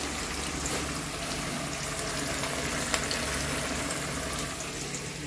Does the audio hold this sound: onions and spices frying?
yes